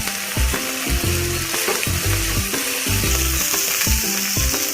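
Whole coriander seeds sautéing in a hot pan with garlic paste, a loud steady sizzle and frying crackle broken by repeated scraping stir strokes, close up with no talk.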